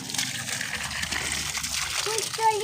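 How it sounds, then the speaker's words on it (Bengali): Water poured onto a flower plant in a garden, a steady splashing trickle under a child's and an adult's voices talking nearby. "কোথায় জল দিচ্ছ?"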